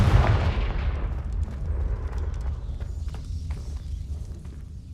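A fire-spell blast from the Hogwarts Legacy video game bursts loudly at the start, a heavy booming impact that decays into a long rumbling tail.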